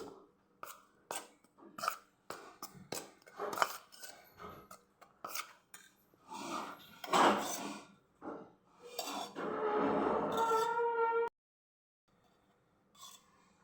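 Scraping and clinking of a spoon stirring dry flour with pepper powder in a metal bowl, in short irregular bursts, ending with a steadier rasping stretch before quiet.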